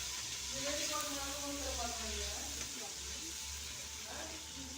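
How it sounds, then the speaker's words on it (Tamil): Tomatoes sautéing in a pan for mint pickle give a steady soft sizzle and hiss throughout, with a person talking over it. "தக்காளி சேர்த்துட்டு தக்காளி நல்லா வதங்க விடலாம்"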